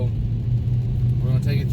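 A 2015 Dodge Challenger R/T Plus engine drones low and steady while driving through city traffic, a constant in-cabin rumble with someone talking over it.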